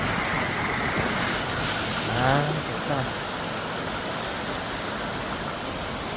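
Steady rush of a clear mountain stream in the Sicheon valley of Jirisan, a broad even wash of flowing water throughout, with a man's brief sigh of contentment over it partway through.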